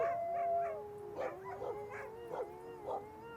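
Dogs barking and yipping outdoors in the Écrins mountains, a quiet series of short high barks and whimpering howls in an uneven rhythm, a few yelps close together against a calm background.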